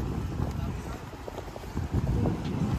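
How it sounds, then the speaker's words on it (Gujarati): An auto-start boat engine runs steadily at close range on a fishing outing, a low rumbling drone mixed with wind buffeting the microphone. "આ એન્જિન છે એ ઓટો સ્ટાર્ટ છે"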